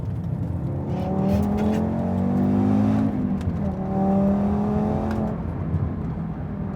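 Audi TT RS 2.5-litre five-cylinder single-turbo engine with iron block and aluminium head, close and steady, revving up and easing back twice in a continuous drone with no talk.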